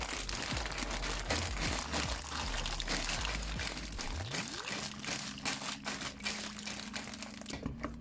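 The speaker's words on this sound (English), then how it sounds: "then I'm gonna add my pasta" Dry pasta, about three and a half cups, tumbles and rattles into a pot in a steady, close crinkling pour lasting several seconds, with a low hum underneath.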